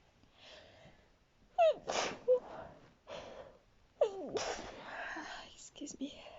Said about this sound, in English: That's how I usually sneeze.